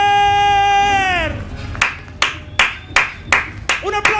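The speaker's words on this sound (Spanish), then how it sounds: "Un aplauso fuerte para Joker" Audience at a national rap battle final clapping in the crowd: after a fading tone, a series of sharp, separate claps rings out in an uneven rhythm, close and loud, with faint crowd noise between them.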